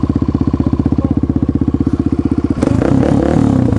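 An enduro motorcycle engine chugs in a fast, even rhythm, then revs up louder and rougher as the bike pulls away, close by.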